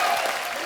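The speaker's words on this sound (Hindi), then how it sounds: "टाइमिंग के लिए जोरदार तालियां।" Brief burst of dense studio audience applause at a comedy talk show, loud and close, sustained clapping with no pauses.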